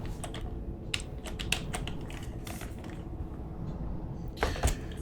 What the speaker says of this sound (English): It's a wireless keyboard.